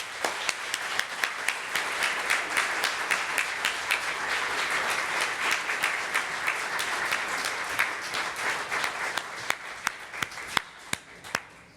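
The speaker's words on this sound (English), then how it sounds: "Let's give him a round of applause." Audience applause at a design competition awards event: a steady wash of many hands clapping for about twelve seconds, thinning toward the end into a few scattered, distinct claps.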